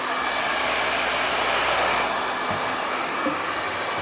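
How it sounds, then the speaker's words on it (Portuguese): An old hair dryer runs continuously, a loud steady whirring blow with a constant motor hum and no pauses or speech. "Tem um secador de cabelo velho aqui."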